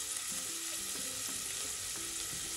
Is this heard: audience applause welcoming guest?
no